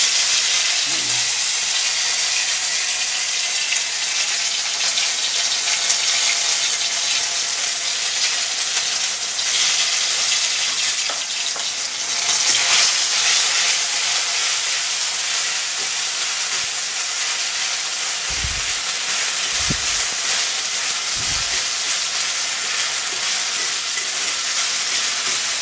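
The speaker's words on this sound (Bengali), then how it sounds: "এবার আমি মশলাটু এই তেলে ভেজে নেব। আদা জিরে, একটু গোলমরিচ, কাঁচা লঙ্কা।" Ginger, cumin, black pepper and green chilies frying in hot oil, a loud, dense, continuous hissing sizzle lasting the whole stretch, with a few faint low knocks toward the end and no talking.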